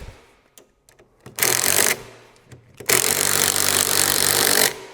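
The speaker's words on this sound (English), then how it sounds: "I use my drill" A power drill runs on the handlebar bolts of a Dazzle Off-Road Pro 60V 1500W electric quad bike: a few light clicks, then two loud, close whirring bursts, a short one and a longer one, with a brief pause between them.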